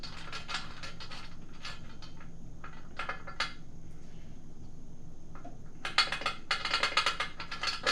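Roof rack fittings on an INEOS vehicle are tightened with a run of short metallic ratcheting clicks and rattles in quick bursts. The clicks are faint at first, with a louder cluster toward the end.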